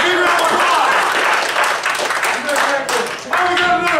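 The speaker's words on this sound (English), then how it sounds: "Excellent, big round of applause!" An audience at an improv student showcase claps and applauds for several seconds in a dense, lively burst that dips briefly and then picks up again, with a voice speaking over the clapping.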